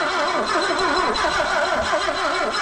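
A BMW 2002 that sat unused for over 30 years cranks with the choke pulled, its starter churning in a rapid, rhythmic wobble that stays loud and close without catching during the short stretch.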